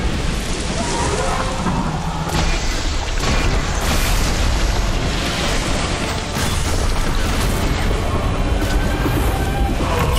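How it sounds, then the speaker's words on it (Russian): A loud, continuous roar of explosion and rumble fills a boss fight in the video game Kena: Bridge of Spirits, with booming bursts layered over dense noise throughout. "Да взрывайся ты уже, в конце концов."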